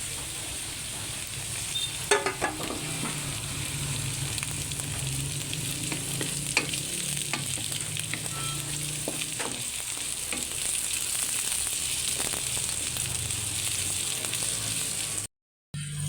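Onions sizzle steadily in a hot pan, with occasional scrapes and clinks of a utensil stirring, close up and continuous without any talking.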